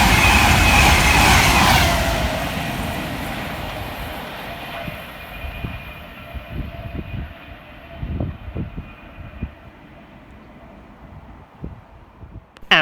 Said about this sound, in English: And flying in the opposite direction for Avanti West Coast is 390-047, working 1H33 from London Euston through to Manchester Piccadilly.